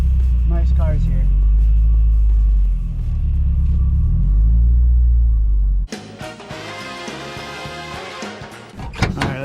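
A car drives in with a steady low engine rumble, then pulls up and stops at an automotive shop where nice cars are parked; the engine noise cuts off abruptly and gives way to brighter background sound.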